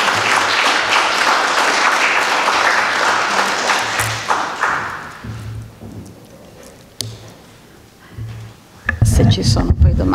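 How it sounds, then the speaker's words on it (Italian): An audience applauds after a lecture on philosophy: dense, steady clapping fills the hall, thins out and fades by about five seconds, leaving a quiet room before a voice and movement return near the end. "come già con l'applauso abbiamo manifestato il nostro apprezzamento"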